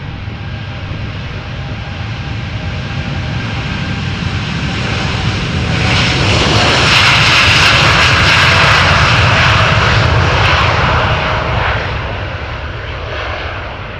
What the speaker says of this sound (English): Boeing 787-10 Dreamliner, destination Chicago O'Hare.